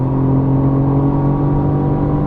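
Mercedes-AMG GT R engine pulling hard at speed on the Nürburgring, a loud, steady, continuous drone with strong harmonic tones throughout, heard from close by with no talking.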